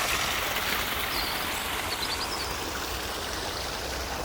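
A garden pond waterfall fountain in a Yorkshire garden in winter, water splashing and trickling in a steady continuous rush, close and even, with faint bird chirps in the background.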